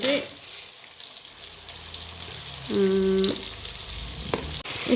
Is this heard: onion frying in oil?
yes